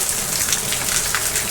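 Steady rain patters densely on a surface, an even hiss of drops with no voices and no thunder.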